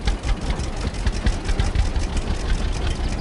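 A tractor engine idles in the farming game Farmer's Dynasty, a steady low rumbling chug with no talk over it.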